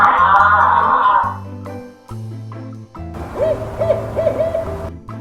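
An owl calls in a series of soft, rhythmic hoots in an outdoor natural setting, preceded by a louder voiced call and broken by short pauses.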